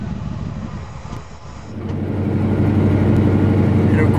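An engine catches and runs after fuel is added, a quieter rustle and crank giving way to a loud, steady mid-pitched rumble that holds close by for the last couple of seconds.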